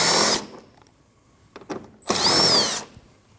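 A power tool whirs in two short, loud bursts while 8mm bolts are taken out of a Ford Escape fender liner, with faint clicks and handling noises in the quiet gap between them.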